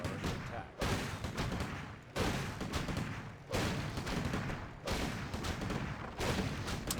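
Rifle gunfire from human riflemen in a Warcraft III orc versus human match, heard as dense bursts of rattling shots in roughly five repeated volleys, each cut off by short gaps.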